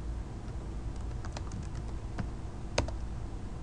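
Keystrokes on a computer keyboard while typing into a terminal, scattered soft clicks over a steady background hiss, with one sharper key press near the end.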